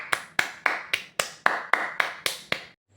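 A single person claps ten times at an even, moderate pace, each clap crisp and close with a brief room decay, then stops into near silence.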